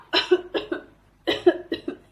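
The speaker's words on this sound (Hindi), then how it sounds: "कफ कर रहे हैं, मतलब खांसी कर रहे हैं" Two bursts of coughing, each a quick run of three or four sharp coughs, close and clear with a short quiet gap between them.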